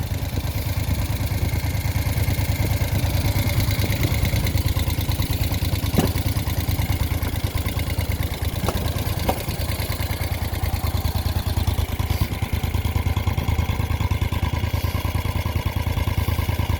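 A 1973 Moto Guzzi Eldorado motorcycle engine idles steadily up close, a loud, even low rumble with fine mechanical clatter running unbroken throughout, with no voices.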